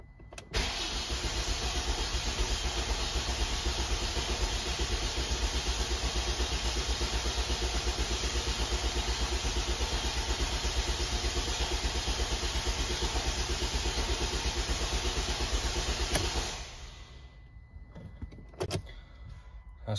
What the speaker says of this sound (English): That's one lot of cranking.